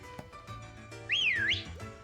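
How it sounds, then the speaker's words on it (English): A player character whistles indoors in the video game Pokemon Shield, a clear rising-and-falling melodic whistle of about half a second standing out over quiet game background music. "Indoor Pokemon react to the whistling."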